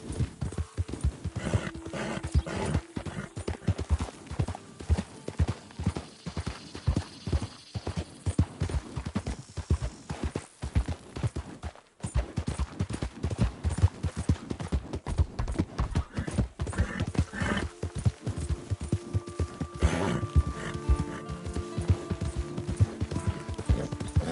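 Horse hooves clip-clop steadily and rhythmically throughout in the video game Red Dead Redemption 2, close and continuous, with a brief pause midway and some faint background tones.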